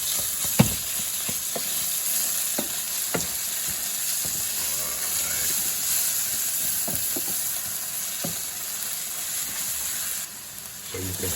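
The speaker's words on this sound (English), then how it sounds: "fry our vegetables in some paste" Chopped vegetables fry in paste for a Wagyu bolognese, a steady, close sizzle and hiss holding throughout with occasional clicks and taps of stirring; no talking.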